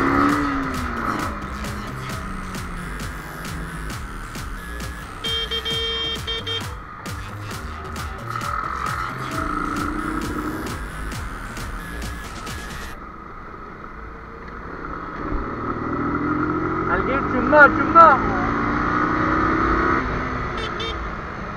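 An Aprilia SR 150 scooter and a Yamaha R15 V2 motorcycle accelerate side by side in a street race, with engine whine rising and falling over wind noise, while a rider talks over the sound throughout.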